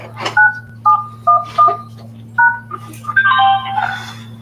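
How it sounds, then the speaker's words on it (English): A short series of telephone keypad tones enters a password, each beep brief and clear, with an irregular rhythm and a quicker cluster near the end, over a steady low hum. "Please enter your password followed by the pound."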